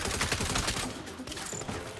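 Rapid gunfire from a Saints Row firefight, a dense, continuous burst of shots over roughly two seconds that stays loud throughout, then continues more unevenly with scattered cracks.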